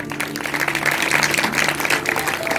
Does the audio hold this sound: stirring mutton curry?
no